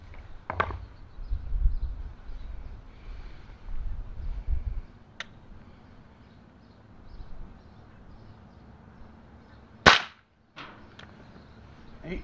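A Gammo break-barrel air rifle fires a 7.4 grain Crosman pointed .177 pellet in one sharp, loud crack near the ten-second mark, after stretches of low background rumble and a few faint clicks from handling.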